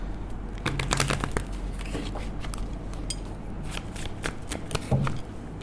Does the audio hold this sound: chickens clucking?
no